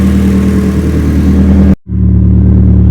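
A Nissan S15 Silvia engine idles loudly at about 1,200 rpm before warming up, a steady low rumble cutting out for an instant before the even drone resumes.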